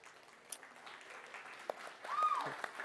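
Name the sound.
applause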